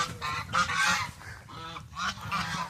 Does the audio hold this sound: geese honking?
yes